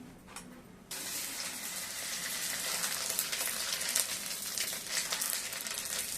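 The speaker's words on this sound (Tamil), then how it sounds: "இப்போது அப்பளம் பொரிக்கிற மாதிரி இது பொரிச்சு எடுத்துக்கலாம்." Dried fenugreek and lentil vadiyalu drop into hot oil and burst into a loud, steady sizzle. The hiss begins abruptly and stays close and continuous, with crackling flickers throughout.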